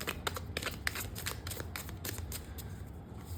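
Cards are shuffled for a card reading, giving a rapid series of close, crisp riffling and sliding bursts that repeat steadily with no talking over them.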